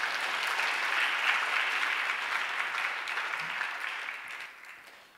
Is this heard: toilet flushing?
no